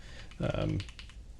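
Typing on a OnePlus Keyboard 81 Pro with tactile switches gives a short burst of muffled keystrokes, with a voice briefly heard alongside them.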